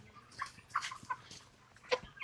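Scattered soft clucks from chickens on a poultry farm of about 5,000 birds, faint and somewhat distant, coming in irregular bursts.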